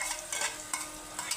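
Onion-coconut masala paste with garlic and tomato fries in oil in a pan, a close, steady crackling sizzle broken by brief scraping stirs, with no talking.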